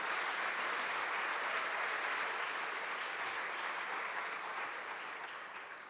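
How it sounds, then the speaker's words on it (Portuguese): Church congregation applauding together, a steady, dense wash of clapping that fills the whole stretch and tapers slightly toward the end. "Dá um aplauso à palavra do Senhor"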